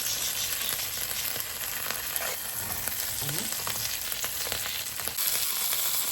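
A loaf of bread frying in a pan with sauce or ketchup, giving off a dense, continuous sizzle and crackle at close range, with faint stirring or scraping underneath.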